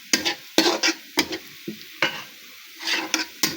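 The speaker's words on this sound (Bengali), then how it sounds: "প্রথমে আমি পেঁয়াজটা ভেজে উঠিয়ে রাখবো।" Onions fry in a pan, with quick bursts of a spatula stirring and scraping over a soft sizzle, roughly ten sharp strokes in uneven rhythm, close and clear without talk.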